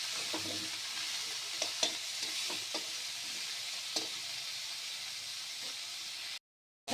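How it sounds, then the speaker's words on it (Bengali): Banana stem stir-fried in hot oil in a pan, a steady soft sizzle with a few scraping stirs of a spatula, close and even, cutting to silence near the end. "এবার আমি এর মধ্যে থোড়টা দিয়ে দেবো। ভালো করে কষে নেব।"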